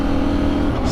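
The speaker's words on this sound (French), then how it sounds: "Bienvenue à bord du KTM" A KTM 790 motorcycle engine drones steadily at high revs, loud and close, a sustained buzzing hum with no break over a short moment.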